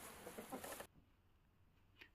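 A hen clucking in a short burst of close, busy clucks that stops abruptly, followed by near silence and one faint later cluck.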